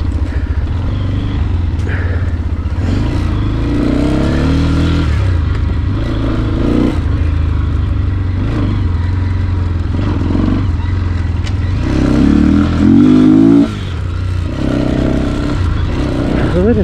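A cheap KPM street motorcycle fitted with off-road tires rides over rough off-road ground, its engine droning and revving close by with clattering and scraping bumps throughout.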